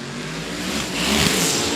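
Drag cars, a Monte Carlo and a 200-mph Camaro, idle and rev at the starting line of a dragway, a steady loud engine drone that swells near the end.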